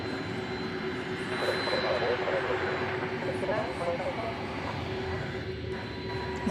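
Aircraft taxiing through the UPS apron at DFW Airport at night, a steady jet engine hum and whine with low rumble, moderately close, with a voice speaking over it.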